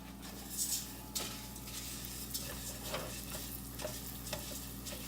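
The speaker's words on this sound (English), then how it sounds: "We're going to take our rice. We're going to put it in here, in the butter. We're going to move the rice around." Rice stirred through sizzling butter in a pan, a steady frying hiss with scraping stirs and light clinks of utensil on metal, close and continuous.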